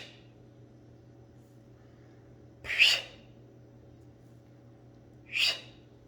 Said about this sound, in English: you're going to take the Mapacho in your mouth and you're going to blow it down your body